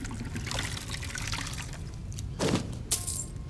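Water is poured in the video game Skyrim, a trickling, splashing pour with a sharp glassy clink and a brief bright clatter near the end over soft in-game ambience.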